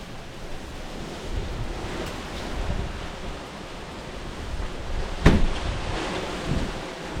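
Strong outdoor wind buffeting the microphone, a loud, uneven low roar that swells and gusts, peaking with a sharp thump partway through, no voices.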